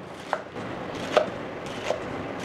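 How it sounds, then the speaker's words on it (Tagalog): Knife slicing string beans thinly on a cutting board, a few distinct chops spaced about half a second to a second apart, close and clear with no talking. "Mayroon po tayong sitaw. Hiwain natin ng maninipis na ganyan."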